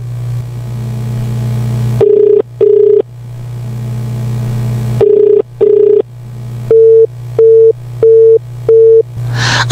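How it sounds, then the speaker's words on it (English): A telephone line plays a loud continuous tone, then pairs of beeps, then a run of evenly spaced single beeps, all clean and close with no voices. "his phone went unanswered after several attempts"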